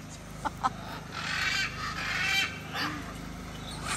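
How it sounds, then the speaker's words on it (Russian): A flock of parrots squawking nearby, with a couple of quick sharp calls followed by longer harsh, overlapping screeches. "Целая попугайная стая."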